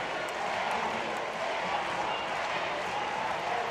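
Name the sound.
judo crowd shouting for a fighter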